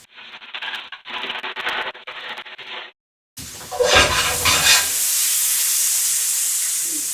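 Tomato and garlic pasta sauce cooking in a pan. A clipped, muffled stretch is followed by a brief pause, then a loud, close, steady sizzle and hiss that holds to the end.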